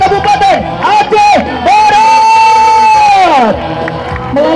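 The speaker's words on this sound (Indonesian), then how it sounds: "Tepuk tangan yang paling meriah untuk Kabupaten Aceh" A loud crowd at a Scout Ramadan competition cheers, whoops and yells for the Aceh Barat regency. Raised voices overlap continuously near the microphone.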